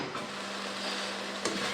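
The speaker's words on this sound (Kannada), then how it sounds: "ಕರಿಬೇವು ಸೊಪ್ಪು ಹಾಕ್ಕೊಂಡು ತಿರ್ಸ್ಕೊತಾ ಇದ್ದೀನಿ." Onion, tomato, green chili and curry leaves are stirred in a pan over a soft, steady sizzle, with a faint scrape of the spoon near the end.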